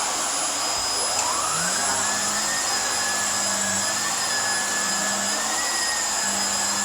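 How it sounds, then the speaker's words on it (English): A vacuum cleaner runs loudly and continuously close by, its steady whine shifting in pitch as the motor load changes, with no voices over it. "I told Alan, don't vacuum anymore"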